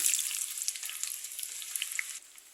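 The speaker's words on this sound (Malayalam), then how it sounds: "എണ്ണ ചൂടാക്കി കഴിയുമ്പോൾ ഒരു അര സ്പൂണ് കടുക് ഇട്ട് കൊടുക്കാം കുറച്ച് ചെറിയുള്ളി" Mustard seeds and shallots hit hot coconut oil in a pan, producing a bright, continuous sizzle with crackling pops, loud and close, easing slightly near the end.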